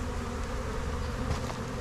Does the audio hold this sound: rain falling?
no